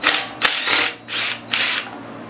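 A power drill driving screws out of a Honda clone generator engine whirs in four short, close bursts, each pulse rising and falling with brief gaps between.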